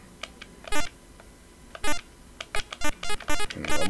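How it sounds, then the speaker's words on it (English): Phone dialing in the Atari 2600 game Superman, a run of short bright electronic tone bursts, sparse at first and then coming in quicker succession, loud and clear with no talk. "Let's go in there and make a phone call."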